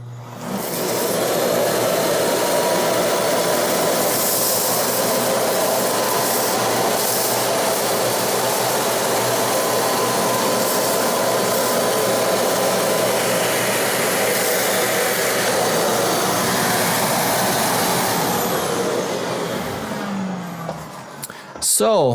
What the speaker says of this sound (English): when I lifted the vacuum, I was able to suck up a lot more of the oatmeal